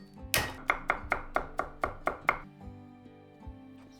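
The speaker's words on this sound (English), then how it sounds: "Chop 4 garlic cloves." Four garlic cloves are chopped with a knife on a board in about ten quick, sharp, evenly spaced strokes. A few scattered, softer taps follow.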